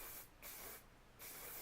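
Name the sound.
spraying hairspray on long curled hair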